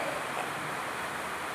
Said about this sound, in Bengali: ভিডিওতে আপনারা বৃষ্টির আওয়াজ শুনতে পাচ্ছেন।